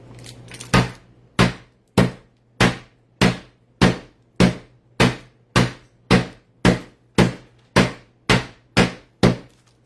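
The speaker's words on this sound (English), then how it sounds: "Now we're going to take our meat hammer, okay?" A meat hammer pounds pork chops thin, striking in a loud, steady rhythm of about fifteen evenly spaced thuds, close by with a low hum underneath.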